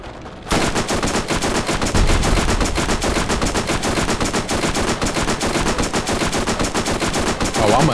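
Rapid automatic gunfire in the video game Borderlands, a loud, relentless stream of shots rattling nonstop for several seconds after a brief quiet start.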